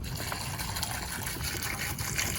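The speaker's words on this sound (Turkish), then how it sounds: "Evet sönmemiş kirecimi koydum. Üzerine birazcık su dökeceğim." Water poured onto unslaked quicklime in a garden, a soft continuous splashing and gurgling pour, fairly quiet and close.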